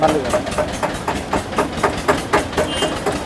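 A heavy tractor engine idles with a steady, rhythmic chugging pulse several times a second. It is fairly loud and close, with a voice faintly underneath.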